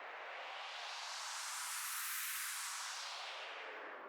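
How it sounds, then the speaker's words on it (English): White noise in Ableton with an automated band-pass filter sweep rises in brightness to a peak and falls back down the other side, steady hiss throughout with no talking. "So I've got some fairly standard automation going on the white noise at the moment."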